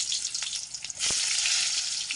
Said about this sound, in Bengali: বেগুনগুলো তাড়াতাড়ি করে ভেজে নিই